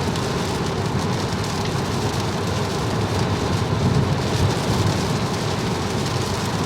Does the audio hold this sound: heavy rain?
yes